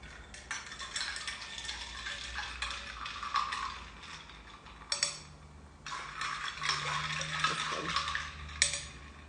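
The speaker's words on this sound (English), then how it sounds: "And then you stir." A spoon stirs a drink in a glass, making a run of close clinks and rattling, ticking scrapes in uneven bursts with short pauses between, moderately loud and without any talking.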